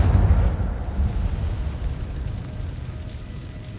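An Incendio fire spell cast in Hogwarts Legacy, a loud deep whooshing burst that rolls out at the start and slowly fades into a lingering low rumble.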